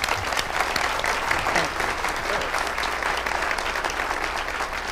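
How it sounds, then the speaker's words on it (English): An audience claps at a district town hall meeting, a dense, steady round of applause from a crowd filling the room that carries on without a break. "Please give her an applause"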